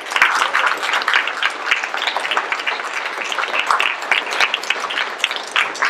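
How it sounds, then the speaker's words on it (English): An audience at a community meeting where candidates for U.S. Congress and the Texas House are being quizzed bursts into steady, dense applause that holds at a loud level for the whole stretch, with no voices over it. "Give yourself a round of applause."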